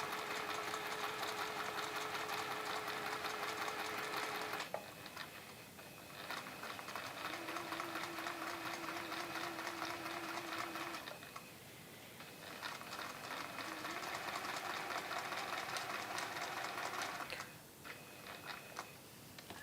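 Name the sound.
sewing machine doing reverse stitch on cushion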